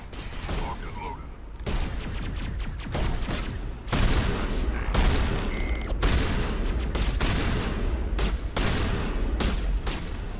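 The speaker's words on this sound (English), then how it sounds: "Something else shooting at us." Dense, loud gunfire in a Mass Effect Legendary Edition battle on Feros, with rapid bursts and overlapping shots running almost nonstop, layered under occasional voices.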